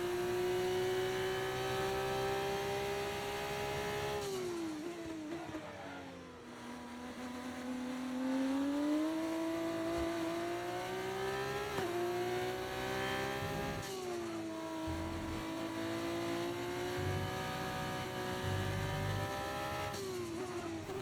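Race car engine in F1 24 running hard through a lap, a loud continuous whine that climbs and dips with throttle and gear changes, briefly easing off around mid-lap before rising again; no talking.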